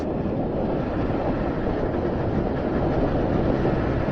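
A Suzuki 1200 Bandit motorcycle engine runs in a steady, smooth drone without a break, broadband and even in level, with no talking over it.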